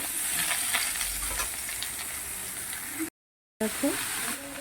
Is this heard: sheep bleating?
no